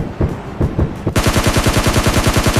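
A fully automatic weapon sprays in a shooting video game. Rapid, evenly spaced shots roll in a loud, continuous burst, preceded by a few separate shots.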